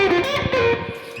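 A distorted electric guitar plays a lick from a recording, a few sustained, bending lead notes, close and loud with no talking.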